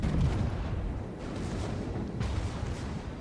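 Bismarck battleship secondary guns in World of Warships fire in a rolling series of dull, muffled booms over a constant low rumble of battle noise, with no talking.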